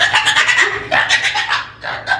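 Chickens on a farm clucking and squawking close by, loud repeated bursts of calls with brief gaps between them.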